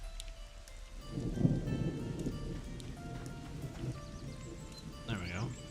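Steady rain falls in the video game Monsters & Memories, a soft continuous hiss with occasional low rumbles of thunder, while someone talks throughout.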